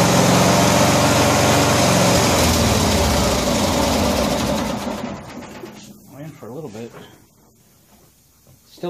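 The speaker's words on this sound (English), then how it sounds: "Choke works real good, comes right up on high idle and everything." A 1974 Cushman Truckster utility vehicle engine runs loud and steady on high idle after a cold start, then cuts off about halfway through, leaving quieter handling noises and brief sounds afterward.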